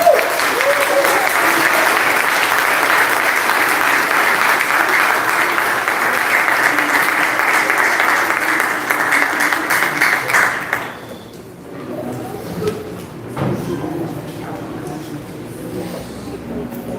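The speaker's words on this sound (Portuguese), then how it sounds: "Uma salva de palmas para eles." A church congregation at a special centenary service of a Congregational church gives a loud, sustained round of applause that fills the room for about ten seconds, then cuts off abruptly and leaves only scattered faint sounds.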